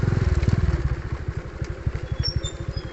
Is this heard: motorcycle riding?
yes